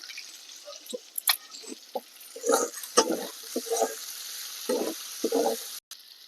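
Ground coriander and dried chili powder fry in a pan as a masala for mung dal, giving soft intermittent sizzles and wet spattering bursts over a quiet background.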